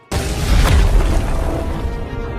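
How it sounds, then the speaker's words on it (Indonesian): A loud explosion sound effect from the donghua animation Battle Through the Heavens hits with a sharp, close boom and then trails off into a long, rumbling decay. "Setelah mendengar suara ledakan di dalam"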